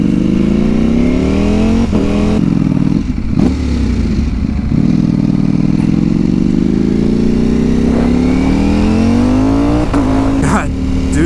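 A V4 motorcycle engine roars loud and close, revving up through first gear, dropping briefly at the shift into second, then climbing again with a steady rising drone.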